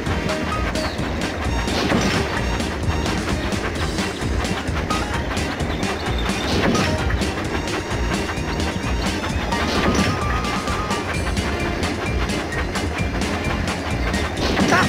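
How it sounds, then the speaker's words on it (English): Thomas & Friends toy train engine running on tracks in a video game, a loud continuous rattle with rhythmic clickety-clack and a few brighter whistle-like accents, steady throughout with no talk. "Steer your engine through the sharp curves."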